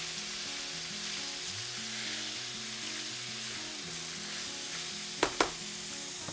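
Shirataki fried rice sizzles steadily in a hot pan as it is stirred, with a constant frying hiss over a low background hum. Two sharp utensil clacks land close together near the end.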